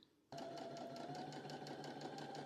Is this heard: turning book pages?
no